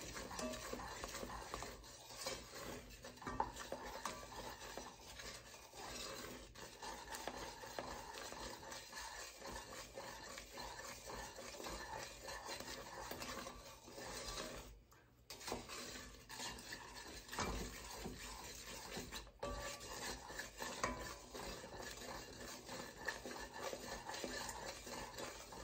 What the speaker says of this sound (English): And keep stirring.